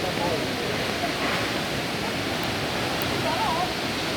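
Langlok waterfall near Thanchi roars as a constant, dense rush of falling water, loud and close, with wind mixed in and no break through the whole stretch.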